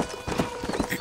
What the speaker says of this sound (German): Aber hey, mit unserem Pferd geht es ja recht zügig.